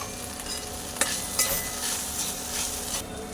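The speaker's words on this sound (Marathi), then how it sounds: "भेंडी भाजून घेऊया चांगली भेंडी थोडी भाजले" Okra frying and being stirred in a pan with onion for a spiced bhindi dish, giving a steady close sizzle with a few sharp scraping clinks of a utensil against the pan.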